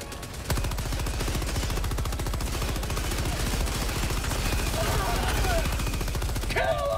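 Sustained rapid automatic gunfire from a sentry turret in Helldivers 2, a loud steady stream of shots running nearly the whole time, with brief shouted voices and chirping effects near the end.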